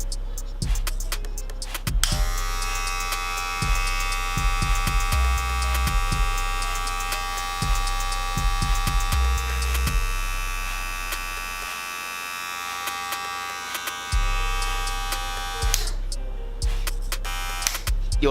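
A Wahl cordless hair clipper buzzes steadily near the microphone for most of the stretch, with a few short gaps and restarts and some handling knocks.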